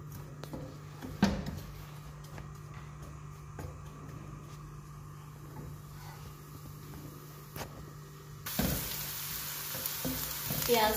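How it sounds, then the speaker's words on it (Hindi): Onions sizzle and fry in a pan for a zucchini curry, a soft steady crackle close by with occasional clanks of stirring and a louder burst of sizzling near the end. "प्याज हमारे फ्राई हो रहे हैं"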